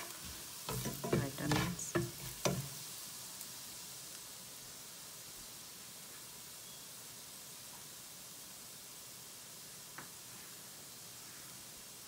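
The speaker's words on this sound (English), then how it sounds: "I don't want to roast the garlic a lot. It will become crispy" Garlic roasting in a pan sizzles in a steady, quiet hiss, with a few louder stirring scrapes near the start before settling into an even fry.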